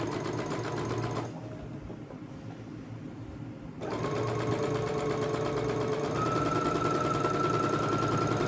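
A sewing machine runs steadily as it stitches a rolled fabric burrito, its even mechanical drone dipping quieter for a couple of seconds midway before picking up again, close and continuous with no talking.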